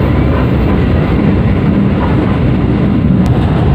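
Steady, loud rolling rumble from inside the Ranggajati executive train as the Joglosemarkerto train passes in the opposite direction, a continuous roar with no clear break or separate swell.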